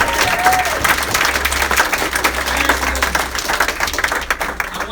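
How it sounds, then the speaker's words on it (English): Audience at a Glen Cove political office opening gives a loud, sustained round of applause, dense clapping throughout with a few cheers and voices underneath. "Give Joe Suozzi one more big round of applause."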